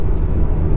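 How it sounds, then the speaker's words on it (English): BMW 1M with sport exhaust in sport mode, a loud, close, deep engine roar held steady through a short burst, with no talk over it. "Sport exhaust."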